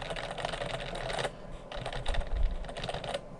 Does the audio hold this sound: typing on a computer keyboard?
yes